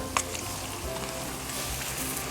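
Black bean pasta tossed into a hot pan, a steady close sizzle with soft stirring scrapes, continuous and moderately loud.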